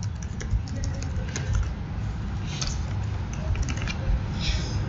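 Fast, steady typing on a computer keyboard, with faint overlapping key taps above a constant low hum throughout.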